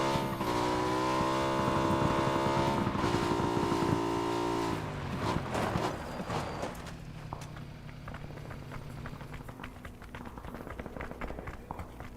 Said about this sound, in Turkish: Araba geldi.